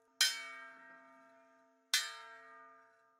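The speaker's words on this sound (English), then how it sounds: "the chief rings a bell to announce a meeting" The village chief of a Mundurucu settlement in the Amazon rainforest strikes a bell to call a meeting, two clear metallic rings about two seconds apart, each ringing on and fading slowly in otherwise quiet surroundings.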